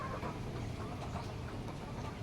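Three chickens cluck softly over steady broadband noise while pecking at eggs found under roofing sheets, the calls faint and continuous through the clip.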